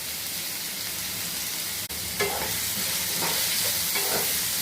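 Steady loud frying hiss of taro (elephant foot yam) pieces fills the clip, with a few spoon-against-pan stirring scrapes near the end.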